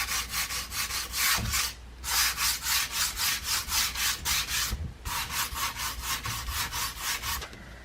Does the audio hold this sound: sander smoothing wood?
yes